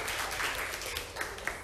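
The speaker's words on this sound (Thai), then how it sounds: "ปรบมือเป็นกำลังใจให้เพื่อนหน่อย" A classroom of ninth-grade math students applauds a classmate with a dense, steady wash of clapping that holds at an even level throughout the short burst.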